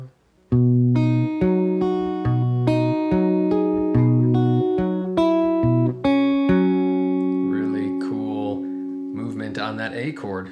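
An acoustic guitar plays two measures of a song as steady strummed and picked chords, close and clear. A brief voice is heard near the end.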